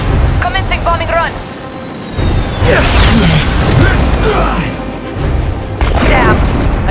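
Heavy booms from a bomb dropped during a bombing run in the Marvel's Spider-Man video game, a couple of broad rumbling blasts over busy game sound, with voices talking throughout.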